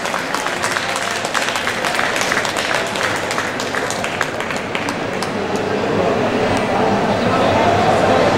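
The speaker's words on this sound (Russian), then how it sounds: "Давайте тоже подарим громкие-громкие аплодисменты нашей невесте" Guests clap loudly and continuously for the bride and groom at a traditional Zaonezhye Russian wedding ceremony held at an exhibition. Voices murmur beneath the sustained applause.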